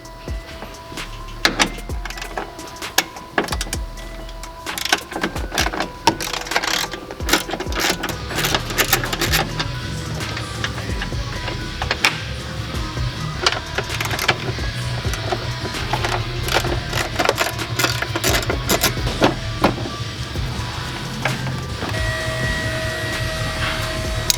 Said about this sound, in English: We're gonna use our 13mm socket with the extension to remove this tray here